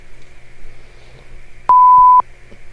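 A workout interval timer in a low-impact off-ice training class gives one clear, steady electronic beep of about half a second, loud over a quiet room hum.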